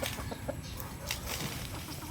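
Chickens cluck in short, repeated calls over a steady background, several birds close by, with no talking.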